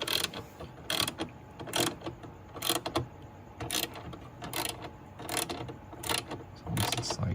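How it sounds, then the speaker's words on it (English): A ratchet wrench tightens a strut brace bolt on a Ford Mustang GT in a cramped engine bay, with a run of quick, sharp clicking bursts in a steady rhythm, close and moderately loud. "I got it low enough so I can start ratcheting it now."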